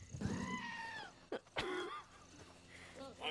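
A llama bike in a video game lets out a few nasal, wavering goat-like bleats, moderately loud, with brief rough throaty bursts between them.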